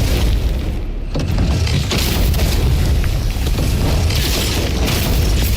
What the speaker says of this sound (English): Bro's got a freaking cannon back there.